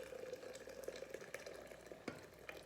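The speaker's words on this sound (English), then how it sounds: "we're gonna add our hot water, which I did remember to boil" Hot water, boiled beforehand, pours onto black tea in a cup, making a steady close trickling splash with a few sharper clinks and drips throughout.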